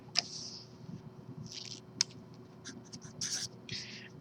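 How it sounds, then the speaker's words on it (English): Marker or chalk strokes scratch in short, separate bursts at a math lecture board, faint and crisp against a quiet room hum, with no talking. "So let's write it down."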